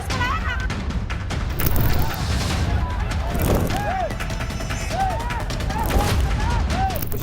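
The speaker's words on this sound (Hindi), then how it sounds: "वो सिर्फ 2-4 पटाखे थे।" Bursts of firecrackers crackle amid a noisy Muharram procession crowd, with sharp pops scattered throughout and voices and shouting running underneath.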